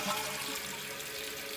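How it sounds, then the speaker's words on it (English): A toilet with dual flush buttons is flushed, giving a steady rush of running water at moderate level with no speech. "So you flush the toilet,"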